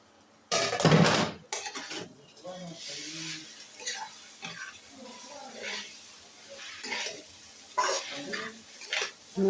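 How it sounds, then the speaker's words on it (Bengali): Noodles with spices stirred in a pan, a loud clatter of utensil against metal at the start followed by intermittent scraping and clinks, with a voice talking over much of it. "একটু নাড়াচাড়া করে দিলাম যাতে নুডলসটার সাথে মশলাটা মেশানো হয়"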